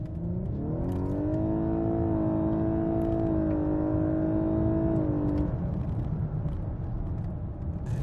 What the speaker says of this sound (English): eventually the engine sounds strained and raspy most of the